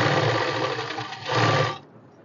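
Sewing machine stitching a tulip salwar while the elastic is stretched, a steady close whirring run of stitching for about a second and a half before it stops, leaving near silence.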